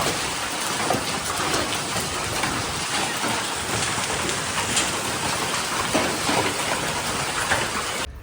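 Heavy hail pours down at a home in a dense, steady roar of ice pellets hammering surfaces, loud and unbroken throughout with no voices.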